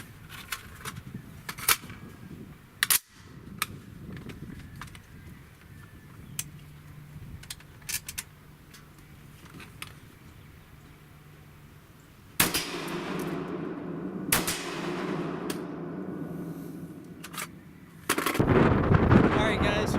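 Irregularly spaced rifle shots from a Swiss-made AK-style rifle crack across an outdoor range, followed by stretches of wind buffeting and rumbling background noise.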